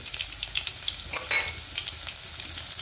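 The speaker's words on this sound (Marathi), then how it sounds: "तर आपण हा लसण आहे ना छान कलर बदलेपर्यंत परतून घेऊ।" Garlic sautéing in oil for a rustic winter green chickpea leaf dish, an even close sizzle with crackling bursts and a short louder flare midway, no talking.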